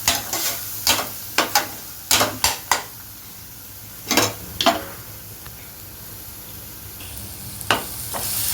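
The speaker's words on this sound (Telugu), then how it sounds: "ఈ వెల్లుల్లిపాయ కారము 1 నిమిషము ఇలా తాలింపులో వేగిద్దామండి." Garlic-chili paste fries in tempering oil in a pan, its low sizzle broken by a run of sharp spatula clacks and scrapes against the metal.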